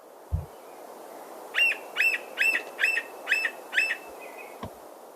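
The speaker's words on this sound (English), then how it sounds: "there's that squeal series that sounds remarkably like a gull" A sapsucker woodpecker gives a gull-like series of six evenly spaced, rising squeals, clear against a quiet background, with a soft thump before and after.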